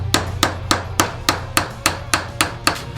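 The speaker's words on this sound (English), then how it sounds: "When in doubt, hammer it on, right?" A hammer strikes a 3D printed part being forced onto a brass blow gun over a wooden block, ten sharp, evenly spaced blows ringing close and loud with no talk.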